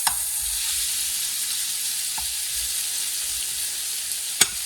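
Paella with snails and chicken stirred in a pan, giving a continuous close sizzle of frying with a few sharp scrapes and clinks of the utensil against the pan.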